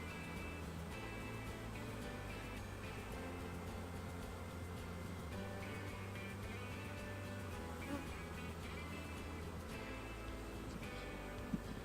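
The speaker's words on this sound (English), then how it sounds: "A lot of bees just running around in the box" Honey bees buzz as a dense, steady swarm inside a bee-removal box. The drone is constant and close, with no voices heard.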